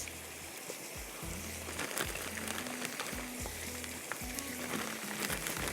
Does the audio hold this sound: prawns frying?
yes